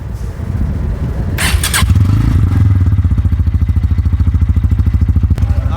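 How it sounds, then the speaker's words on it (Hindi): Bajaj Pulsar N160 motorcycle starting up after a clattering crank, then settling into a steady, close, loud exhaust idle with an even rapid thumping pulse. "तो आप सुनते हैं N 160 का एग्जॉस्ट साउंड ऑन करने के बाद आइडल में कैसा होता है"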